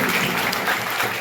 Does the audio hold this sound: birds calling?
no